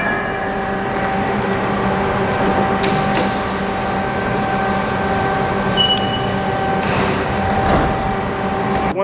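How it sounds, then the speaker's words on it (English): A steady mechanical drone with whining tones from a CNC machine working two wheels at a time in a wheel factory, a continuous industrial hum with a few clanks. "the reason it switches over to this machine is because we have it set up to do 2 wheels at a time instead of just one"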